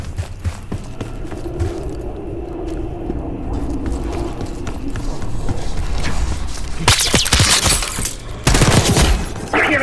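Scattered, muffled gunshots crackle faintly at first in Call of Duty: Black Ops 6 campaign, then sharper bursts of rapid gunfire erupt loudly toward the end.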